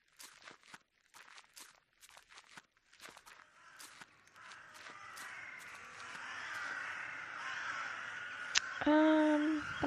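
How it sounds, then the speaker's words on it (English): Footsteps crunch along in the dark game The Last Door before a growing chorus of crows rises into loud, overlapping cawing, ending in a sharp burst as the flock swells nearby. "That sounds like a lot of crows."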